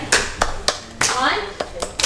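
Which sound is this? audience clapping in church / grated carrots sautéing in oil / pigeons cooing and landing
audience clapping in church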